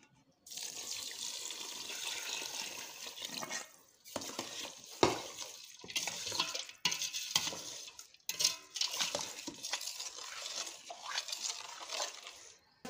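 Water pours steadily into a biryani pot for several seconds, with a few brief breaks and shifts in the flow, close and fairly quiet, and with no talking over it.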